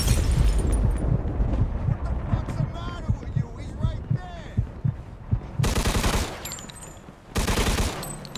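Bomb explosion and gunfire in Mafia 2, heavy thumping booms and low rumbles followed by two loud bursts of gunfire near the end, with a voice talking underneath.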